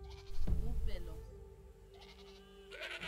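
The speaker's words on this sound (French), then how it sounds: "Son mouflon est devenu un mouton." Sheep bleat in the Dawn of Man prehistoric survival game: a couple of short wavering bleats rise early over a low ambient game bed, with another faint call near the end.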